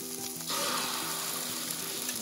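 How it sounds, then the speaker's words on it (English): Whipped eggs seasoned with salt and pepper hit a hot Blackstone griddle pan and sizzle loudly. The broad, steady hiss swells after the first half-second and continues without talk. "Eggs are whipped and salted and peppered, and into the pan they go."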